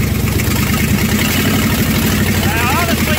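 A 1978 Plymouth Fury V8 runs loud and close during cooling system work, a steady rumbling idle with a slight rise in revs and a voice speaking over it near the end.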